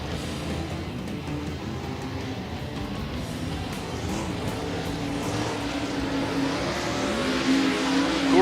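Dirt track race cars running a hot lap session at Volusia Speedway, a continuous roaring engine drone that swells louder toward the end as cars close in.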